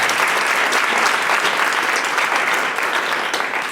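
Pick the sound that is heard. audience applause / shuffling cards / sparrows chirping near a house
audience applause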